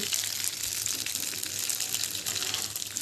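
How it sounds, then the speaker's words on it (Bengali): Raw rice sizzles in boiling oil while it is stirred, a steady close hiss with faint scraping and no voice over it. "ফুটন্ত তেলে চালগুলো দিয়ে এবার একটু নাড়াচাড়া করে নিচ্ছি"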